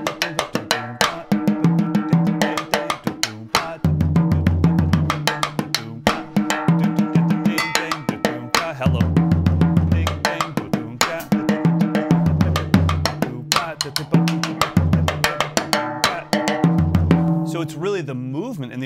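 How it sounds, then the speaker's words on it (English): A drum kit plays a Mozambique groove, with the bell part hit on an open snare that has its snares off. Dry, ringing taps run in a steady syncopated pattern over low kick and tom hits, and no one talks over the playing. "I've got my snares off and I'm playing the bell part on an open snare"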